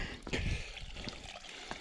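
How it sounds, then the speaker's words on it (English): Water runs and trickles at a mountain spring filling spot on a hike up Cradock Peak, a soft, uneven splashing with a few brief louder spurts, faint and close by. "I hear water."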